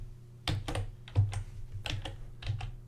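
Computer keyboard typing in short clustered bursts of keystrokes, close and fairly quiet, with no talking.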